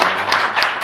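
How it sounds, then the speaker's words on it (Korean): Brief burst of applause from a church congregation during a Thanksgiving service, a dense wash of clapping that stays steady and fairly loud throughout. "다시 하나님께 영광의 박수 돌리겠습니다"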